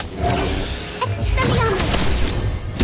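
Incendio fire spell cast in Harry Potter: Magic Awakened, a burst of crackling, whooshing magical effects with sharp crashes and chimes, layered over dense game sound that carries on throughout.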